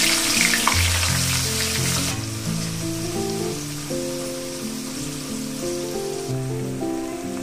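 Sliced onions fry steadily in hot oil in a kadhai, a continuous close sizzle running the whole time beneath a melodic music track.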